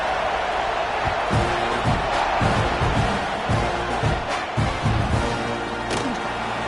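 A packed football stadium crowd at a Texas A&M versus UCF college game keeps up a steady, loud roar with scattered thumps and claps that swell and ease throughout.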